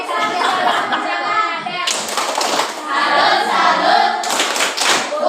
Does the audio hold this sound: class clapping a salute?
yes